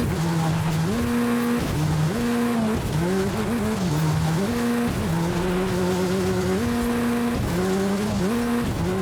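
A car driven hard through a small desert in the video game Forza Horizon 5, its engine revving up and down through gear changes with tire squeal and skidding, loud and continuous.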